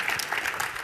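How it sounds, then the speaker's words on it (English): Applause from a conference audience at a technical session, a steady dense patter of many hands clapping throughout, fairly close and even in loudness. "You don't have to clap when Ahmed answers a question"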